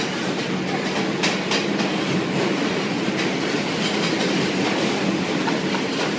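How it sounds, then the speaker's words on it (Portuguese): A New York City subway train rumbles past loudly, its wheels clattering over the rails in a steady, roaring stream of noise. "deixa o metrô passar"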